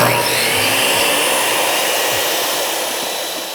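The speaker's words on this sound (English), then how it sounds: "cutting this up on the tile saw" A tile saw cutting through a stone knife handle, a steady loud high-pitched whine of blade and motor running continuously and close, with faint low rumble beneath and no speech.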